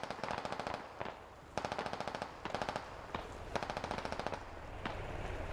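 Heavy automatic gunfire in the military shooter game Squad, with repeated rapid bursts of machine-gun fire crackling one after another at a steady, insistent rhythm, with no voices.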